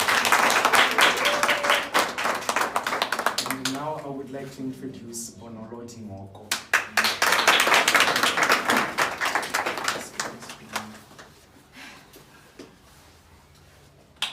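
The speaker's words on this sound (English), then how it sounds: "Please give them a round of applause." A round of applause at an award ceremony for two women, hearty clapping from the audience that pauses while a presenter speaks, returns in a second burst, then fades out.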